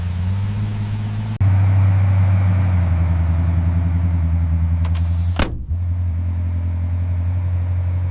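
A 1930 Bentley 8-liter engine runs at a steady idle, with a deep, loud low rumble throughout and a brief burst of noise near the end before the idle settles again.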